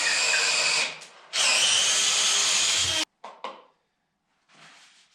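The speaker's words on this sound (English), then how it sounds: "watch out for that drill" A power drill whines loudly through sugar maple in two long bursts with a short pause between, then stops, followed by brief quieter spins and scraping.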